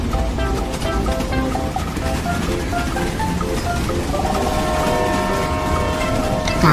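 A small ride-on rail locomotive, just the engine unit without wagons, rumbles along a hilltop track in a continuous rolling drone with faint tonal whine and rattles, close and steady with no talk.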